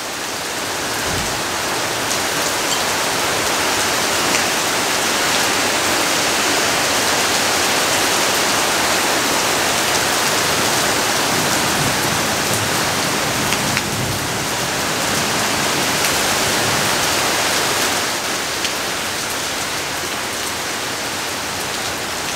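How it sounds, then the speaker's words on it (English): Steady, dense rain pours continuously on surfaces nearby, a constant hiss with a breeze folded into it and no voices. "just listening to the rain and the breeze"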